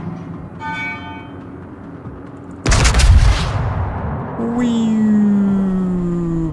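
Naval artillery salvo in the warship game World of Warships, a single loud broadband boom and rumble that decays over about a second, followed by a sustained whistling shell tone over background game ambience.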